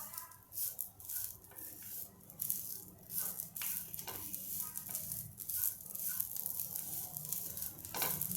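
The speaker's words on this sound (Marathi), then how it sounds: "तर आता थोडं याला लाल होईस्तोर आपल्याला भाजायचं आहे" Grated coconut dry-roasted in a pan, stirred continuously with rattling, scraping strokes and a light crackle, close and fairly busy with no one speaking.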